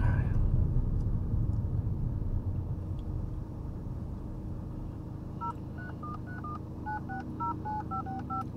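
A phone's out-of-area call tone, a sequence of short alternating beeps, begins midway and repeats in a quick pattern over the steady low rumble of a car driving on the road.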